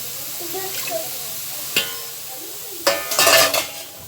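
Meat and onions fry in oil in a pan with a soft, steady sizzle, broken by sharp clinks and scrapes of a utensil against the pot.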